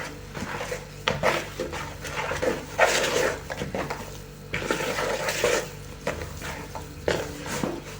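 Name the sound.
stirring dough with a spoon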